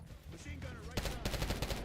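Rapid machine gun bursts in a video game firefight, starting after a stretch of faint murmuring voices and then rattling in quick repeated volleys, moderately quiet and fairly close.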